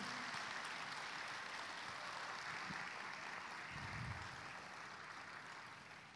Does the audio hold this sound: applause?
yes